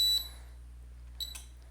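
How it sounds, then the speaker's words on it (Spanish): A Spanish-labelled FPD 7024 alarm panel signals an alarm activation at zone 210 with two short, sharp electronic beeps about a second apart over a steady low hum, no talk. "Aquí tenemos activación de alarma en el punto 210."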